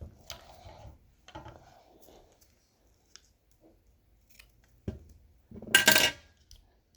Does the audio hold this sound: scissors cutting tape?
yes